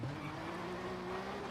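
Rally car engine droning at a steady, rising pitch with tire and gravel noise in V-Rally 4, a continuous close mechanical hum with no talk.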